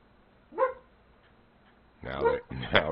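A dog lets out a single bark, then after a pause gives two louder, closer barks in quick succession, indoors with quiet background.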